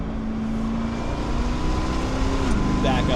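A 2023 Chevrolet Corvette C8 engine drones steadily and then rises in pitch after a downshift to third gear, loud and continuous with road and cabin noise around it.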